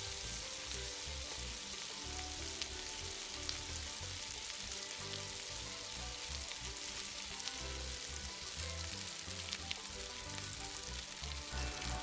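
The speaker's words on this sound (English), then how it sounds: "When the oil is hot, add in the diced onion. Sauté the onion for about 1 to 2 minutes until translucent." Diced onion sautés in hot vegetable oil, giving a dense, steady sizzle and crackle that stays loud and even throughout, with no voices over it.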